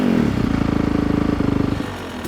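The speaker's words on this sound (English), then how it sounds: "Give it that healthy rev." A dirt bike's small single-cylinder engine revs up sharply with the clutch lever pulled in, a rapid popping pulse, then quickly settles back down, loud and close.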